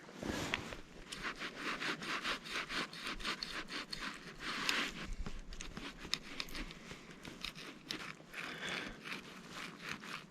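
A knife saws and scrapes through a freshly caught wild brown trout beside an alpine lake, giving a steady run of close, rhythmic rasping strokes with no talk.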